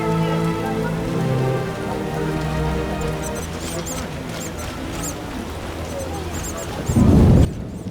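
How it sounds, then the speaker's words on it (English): Heavy rain downpour in The Witcher video game, a steady hiss of falling rain under game music and a voice, ending in a brief louder rumble before cutting off. "A real downpour."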